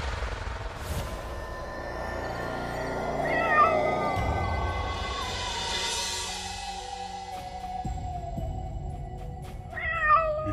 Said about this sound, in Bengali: হঠাৎ শুনতে পেল বিড়ালের ডাক।